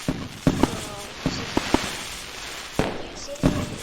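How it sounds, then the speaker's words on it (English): Fireworks show in a video game, a series of sharp pops and crackling bursts at uneven intervals over a steady background hum. "Oh my god, there's yellow cool fireworks."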